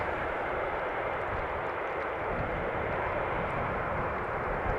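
An airliner touches down on runway 18R at Amsterdam Schiphol, a steady broadband jet roar at moderate distance that holds evenly for several seconds with no voices.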